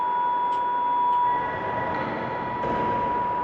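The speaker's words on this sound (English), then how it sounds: "that whine that you hear, that is so like authentic, like Metro Camwell sort of kind of whine" A Metro-Cammell Glasgow Subway train in Train Simulator Classic, with a steady tonal motor whine riding over a constant rolling rumble and faint clicks, continuous and fairly loud.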